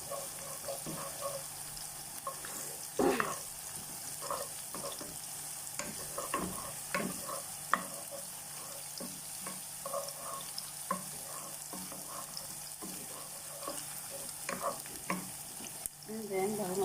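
Onions and garlic fry steadily in a pan, giving a continuous low crackling sizzle with occasional scraping stir clicks, heard up close and with no one talking.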